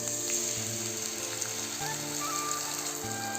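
Spice masala for Bengali-style chana masala hitting a hot pan, giving a steady, close, crackling sizzle that holds evenly throughout with a faint low hum beneath.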